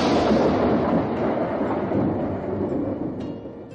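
A thunder sound effect for lightning released while refining a pill, a heavy rolling rumble that starts loud and slowly fades over a few seconds, heard alone without any voices.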